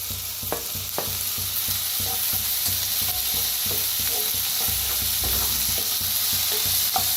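Onion and tomato fry together in a pan with a constant sizzle, broken by repeated scraping and stirring knocks at an irregular rhythm, with no talk.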